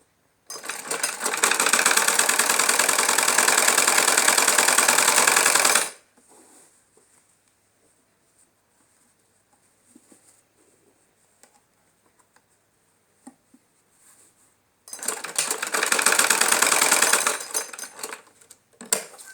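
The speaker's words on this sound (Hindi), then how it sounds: "दोनों आसन को जोड़कर यहाँ से फिर सिलाई लगाएंगे और एक कोन बना लेंगे।" A sewing machine stitches a belted salwar in two loud, fast, steady bursts of rapid needle clatter, separated by a long quiet pause with faint handling sounds.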